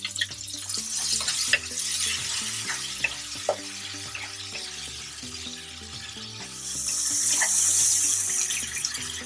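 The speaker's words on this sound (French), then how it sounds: "Et on fait cuire quelques secondes, à 1 minute en tournant." Tomato and red chili fry and get stirred in a pan, with a steady sizzle and scraping stirs close up, rising to a louder hiss near the end, with no talking.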